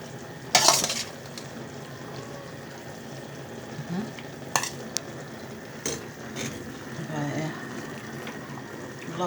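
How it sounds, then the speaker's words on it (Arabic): Macaroni fries and sizzles in a pan for Egyptian koshari, a steady hiss broken by sharp clinks and scrapes of a utensil stirring against the pan. "نشوط مكرونه اهو"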